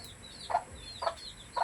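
A chicken being handled gives three short clucks spaced about half a second apart, close and fairly faint over quiet background.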